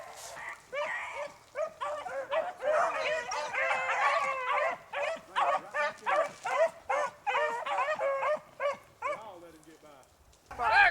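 Hunting dogs chasing a rabbit outdoors, a pack giving repeated excited yips and barks in an uneven run of bursts, fairly close.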